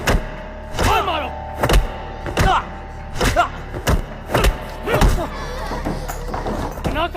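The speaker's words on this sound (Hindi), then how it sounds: "मारो इसे, और मारो।" Heavy thuds land in a steady series during a beating scene in a film, about nine close blows spaced roughly evenly, with voices shouting and crying between them.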